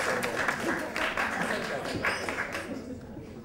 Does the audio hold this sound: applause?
yes